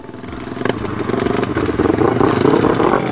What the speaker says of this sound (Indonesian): ini kita mau balapan Aldi, Nuna, dan Obroy